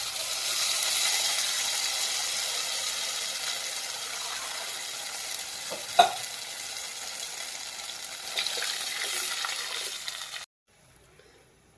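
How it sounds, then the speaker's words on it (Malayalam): Spice paste poured into a pan of fried ginger and garlic for a Kerala fish and mango curry sizzles in a steady hiss with a sharp crackle midway, then cuts off abruptly to near silence. "ഇഞ്ചി വെളുത്തുള്ളിയൊക്കെ നന്നായിട്ട് മൂത്ത് വന്നു. അതിലേക്ക് അരപ്പ് ഒഴിച്ച് കൊടുക്കാം."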